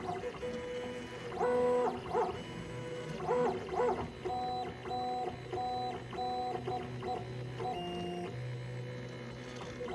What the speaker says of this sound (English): I think 3D printers should sound like this.